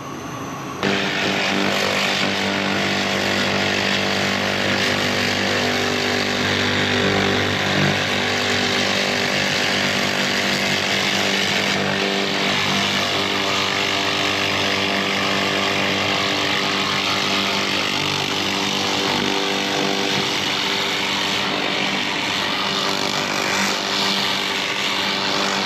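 A 2000W laser cleaning machine stripping rust from an old cast iron manifold, heard as a loud, continuous droning hum and buzz that runs unbroken for the whole stretch, with no talking.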